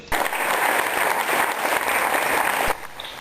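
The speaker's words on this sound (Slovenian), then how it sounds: "Sledil je velik aplavz vsem nastopajočim." Big round of applause from a theatre audience for all the performers after a premiere, loud and steady from a sizeable crowd before stopping abruptly near the end.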